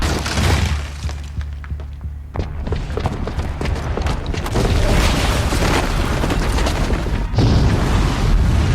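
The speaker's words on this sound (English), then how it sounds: "the booby trap on the bomb downstairs is gonna get set off" A bomb goes off in Horizon Zero Dawn with heavy booming blasts and shattering debris, continuous loud rumble crowded with sharp cracks and crashes, rising in intensity partway through.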